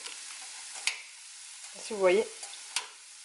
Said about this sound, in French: Et je suis en train de faire brûler mes poivrons.